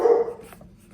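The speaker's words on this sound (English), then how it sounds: "dog barking in the background" A dog barks once, nearly and fairly loud, in a short burst that quickly fades into a quiet room.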